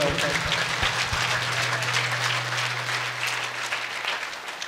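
Audience applause welcoming a visiting team of doctors at an ashram spiritual gathering, steady dense clapping from a sizable crowd sustained throughout with a low hum beneath, fading slightly toward the end.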